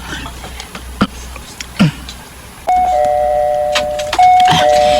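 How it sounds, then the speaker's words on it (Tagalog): A doorbell at a pink gate chimes in two clear electronic tones, close and fairly loud, following a few faint knocks and rustles against light outdoor background noise. "Mag-doorbell ako."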